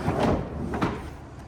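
A plastic cover slides back over the propane cylinders on a 2026 Rockwood Signature 8265KBS travel trailer, making two close scraping, rumbling sweeps with no talk.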